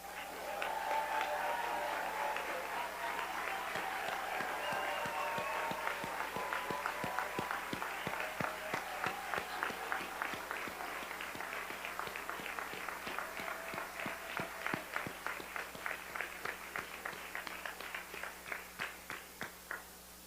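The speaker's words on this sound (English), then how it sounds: "Could we please have all the tenure recipients rise for a final round of applause?" Applause for tenure recipients at a board of education meeting, steady clapping from a crowd that settles into a rhythmic, evenly spaced beat, moderately distant and sustained for about twenty seconds.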